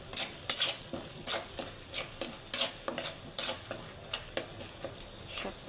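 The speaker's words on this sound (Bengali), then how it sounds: "সব কিছু দিয়ে মশলা কষিয়ে নিচ্ছি" Spice paste stir-fries in a pan with a soft sizzle, punctuated by regular clinking scrapes of a spoon stirring against the pan at a moderate, fairly quiet level.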